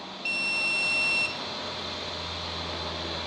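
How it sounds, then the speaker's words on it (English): A single sustained electronic beep lasting about a second, high and steady, from a Stacyc electric balance bike's new ECU, over a low mechanical hum that continues afterward. "Wait for the beep."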